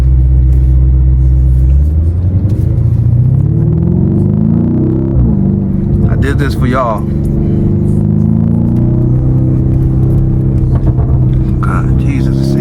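A Lamborghini Urus Performante engine rumbles loudly while driving, its deep tone rising and falling as it accelerates and shifts, with someone talking over it.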